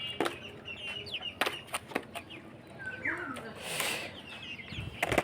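Kadaknath hens kept in a cage cluck and squawk close by, with sharp bursts of wing flapping and scuffling against steady background noise.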